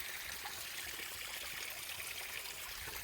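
A small feeder creek flowing outdoors, a steady hissing trickle of running water, quiet and unbroken with no voices.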